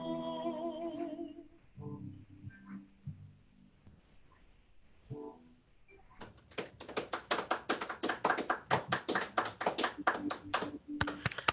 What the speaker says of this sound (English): our lovely audience of three is clapping for you